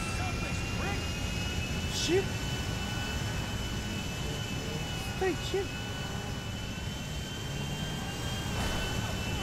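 Jet airliner in a GTA video game, a steady engine roar running throughout with faint whooshes, heard beneath excited speech from a player.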